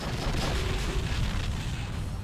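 An explosion in the True Crime: Streets of LA video game makes a dense, loud rumbling blast that fills the whole moment and stays heavy throughout, with no pause or quiet tail.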